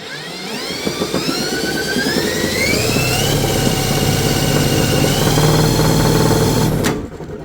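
A greased mower deck spindle from a 38-inch deck on a 2004 Murray tractor is spun at high speed by a drill. It gives a loud, steady, whining hum with a rising pitch, then stops abruptly near the end.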